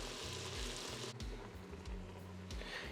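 Beef sears on the saute setting of an Instant Pot, a steady crackling sizzle with a low background hum and a few brief clinks, no speech over it.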